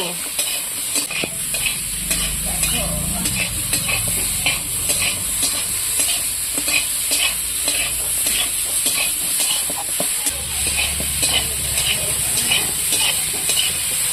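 Chicken curry sautéing in a pan with steady stirring, a continuous loud sizzle broken by repeated scrapes and clinks of a spoon against the metal, close up with no voices.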